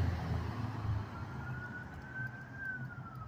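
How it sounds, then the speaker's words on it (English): A fire truck siren responds to a city hall, its rising and falling wail carrying steadily at moderate distance over low background rumble, with no talk. "It's a fire truck"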